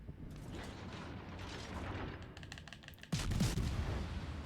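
Ship gunfire and bombing in the naval battle game World of Warships Legends, a low rumbling barrage of shots that builds to a louder burst of blasts near the end.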